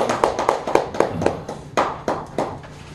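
Scattered hand clapping from an audience at a Korean press forum award ceremony, a few loose, uneven claps close by rather than a full ovation, with no talk.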